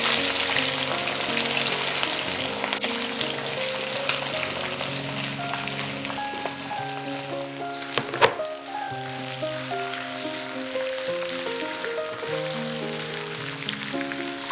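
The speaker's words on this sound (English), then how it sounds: "While our veggies are getting fried" Vegetables frying in olive oil in an Indian chickpea dish, a steady crackling sizzle in the pan, close and continuous, with soft music underneath and one sharp clack partway through.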